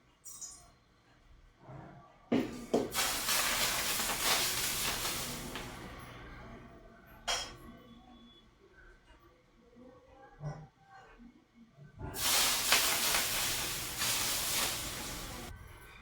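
Very hot oil is poured over onion bhaji batter mixed with turmeric, asafoetida and coriander. It gives two strong bursts of loud, broad hissing sizzle separated by quieter stretches.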